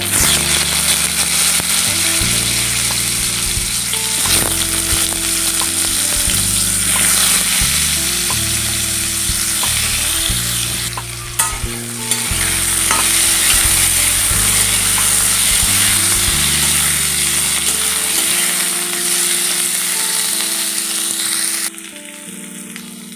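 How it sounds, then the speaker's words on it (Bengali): Raw papaya sizzles steadily in hot mustard oil in a kadai, a loud, continuous close-up crackle with occasional stirring, running unbroken until it drops off near the end. "পেঁপে ভেজে নেব"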